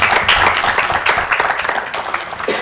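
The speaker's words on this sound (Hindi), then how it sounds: "अलीना के लिए तो तालियां होनी चाहिए भाई।" Loud, dense applause and clapping from a studio audience on a morning show, cheering for young singer Alina after her song, sustained throughout.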